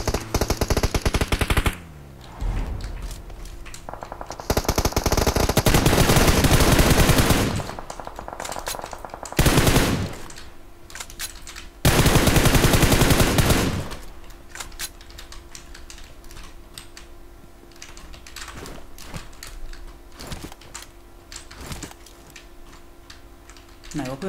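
Gunfire in PUBG Mobile: loud bursts of rapid automatic shots, with several dense volleys in the first half and quieter scattered shots and clicks afterward.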